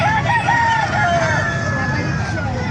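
A rooster crows nearby at a rooster market in Calumpit, Bulacan, Philippines, a long wavering call over background chatter and noise.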